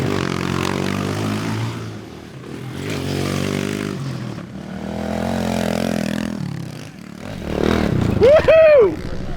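Pit bikes racing on a turf track: engines rise and fall in waves as bikes pass nearby, with rough, buzzing revs and a sharp high squeal near the end.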